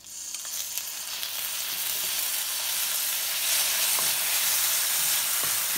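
Ginger garlic paste is stirred into browned fried onions in a hot pan, giving a steady, fairly loud sizzle and hiss throughout with occasional soft scrapes of the spoon.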